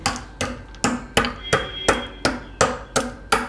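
Sugar pounded by hand to crush it: eight or nine sharp, evenly spaced thuds close up, one about every half second, with no talking.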